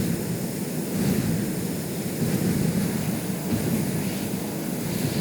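Aircraft in the video game Stormworks slowly moving, a steady low droning engine rumble with a broad airy wash that holds fairly even throughout.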